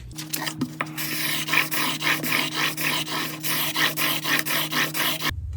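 A fixed-blade broadhead sharpened on a 1000-grit stone gives rhythmic rasping strokes, about two per second, close and steady throughout, with no talking.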